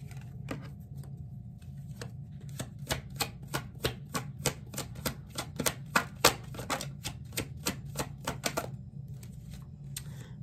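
Tarot cards are drawn and shuffled close by, a rapid, evenly spaced series of crisp snapping clicks over a steady low background hum, ending in a few scattered taps.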